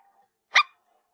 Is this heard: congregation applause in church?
no